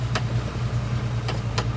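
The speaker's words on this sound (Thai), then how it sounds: "มีรถไถทำทางครับ" A tractor grades a rain-soaked dirt access road into a soil pit near Korat, heard as a low steady engine hum with a few brief higher ticks over it.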